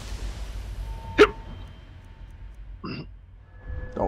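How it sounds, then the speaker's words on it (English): A person gives a sharp, short hiccup, followed a couple of seconds later by a softer second one, with a quiet room and faint background noise between them. "No, I've just got hiccups."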